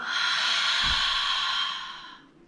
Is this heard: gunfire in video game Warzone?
no